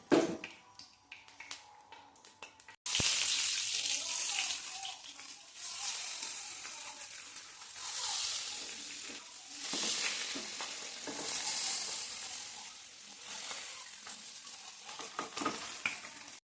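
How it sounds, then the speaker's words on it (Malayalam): Kora fish frying in a pan of hot oil, a sudden loud sizzle that keeps crackling and spitting, swelling and easing in waves, close up after a quieter start. "നമുക്കിത് പൊരിച്ചെടുക്കാം"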